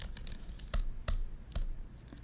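Keys tapped on a MacBook Pro keyboard, a handful of distinct close clicks spaced irregularly over a couple of seconds, with no voices.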